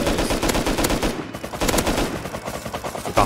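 Dense, continuous automatic MP5 gunfire in the video game Rust, close and loud, with rapid overlapping shots rattling throughout and no talk.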